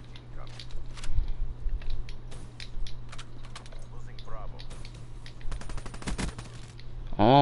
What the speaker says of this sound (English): Come on, Weevil, hit the shots